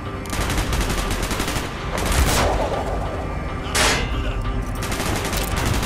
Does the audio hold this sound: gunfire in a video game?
yes